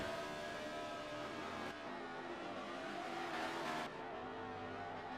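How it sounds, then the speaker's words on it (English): The 48 race car does a burnout after winning at Sonoma, its engine roaring steadily at high revs with a sustained tire-scrubbing rush, loud and close without a break. "The nice, beautiful line burn, and then a happy slide for the 48 car."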